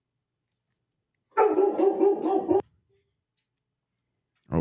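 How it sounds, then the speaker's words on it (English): A dog gives a quick burst of several close barks for about a second, then silence and a short voice at the end. "Big woof."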